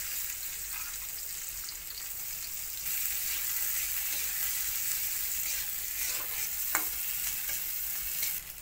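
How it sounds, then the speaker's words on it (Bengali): Chopped onions fry in hot oil in a pan and are stirred now and then, making a steady close sizzle with soft scraping and one sharp clink near the end. "এটার মধ্যে পেঁয়াজ কুচি ভাজা করবো।"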